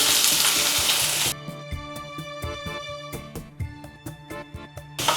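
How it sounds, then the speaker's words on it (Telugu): Onions frying in a pan with mustard seeds, fenugreek, kalonji and dried red chillies until golden, opening with a loud hiss that quickly drops to gentler sizzling under clicking stirs, close and without speech. "ఈ ఉల్లిపాయలను గోల్డెన్ షేడ్ వచ్చే వరకు వేయించుకోవాలి"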